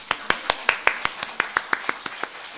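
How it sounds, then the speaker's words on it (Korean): Congregation in a church clapping together in steady rhythm, about a dozen sharp, even claps in just over two seconds, with no talking. "그렇게 창조하신 하나님께 감사의 박수."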